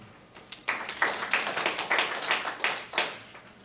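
Delegates at a Security Council-style session clap after a clause passes, a short burst of scattered applause from a small group, moderately loud and fading after a few seconds.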